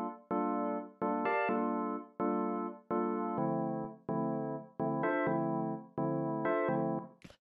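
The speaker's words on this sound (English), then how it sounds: "These are all actually minor ninth chords." House-style track playing a sequence of minor ninth chords on a bright synth, each chord struck cleanly and decaying in a steady rhythmic pattern, heard alone and fairly loud.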